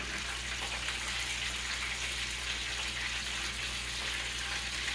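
Chicken wing drumsticks frying in oil, a steady close bubbling sizzle with an even, unbroken hiss and a low hum beneath, no talking.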